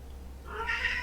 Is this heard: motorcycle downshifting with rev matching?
no